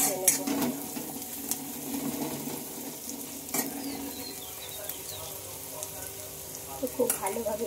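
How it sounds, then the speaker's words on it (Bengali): Onions frying with salt in a pan for a spicy onion fish curry, stirred steadily so a continuous close sizzle runs under repeated scraping strokes, with a few brief sharper clatters. "তো খুব ভালোভাবে মিশিয়ে লবণটা আমি পেঁয়াজের সাথে মিশিয়ে নিচ্ছি"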